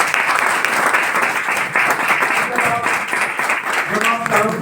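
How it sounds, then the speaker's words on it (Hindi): Audience applause for group leaders at a DTM network gathering, dense steady clapping from a crowd filling the whole stretch, with some voices mixed in near the end. "हमारे सारे लीडरों के लिए तालियां बजाते हैं"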